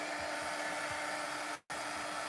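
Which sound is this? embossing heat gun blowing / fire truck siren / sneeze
embossing heat gun blowing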